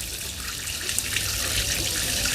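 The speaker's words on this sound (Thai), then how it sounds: "เครื่องฉีดแรงดันสูงนะครับก็เอาน้ำล้าง" A high-pressure washer sprays water to rinse off cleaner, a loud continuous rushing hiss that swells slightly, close by and without talk.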